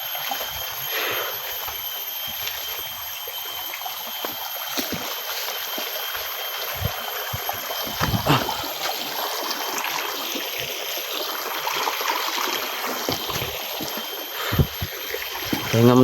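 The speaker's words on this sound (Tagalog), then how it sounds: "Sapa po dito tol." A shallow forest stream flows steadily nearby, a continuous soft wash of running water with faint trickles and occasional rustling movement over it.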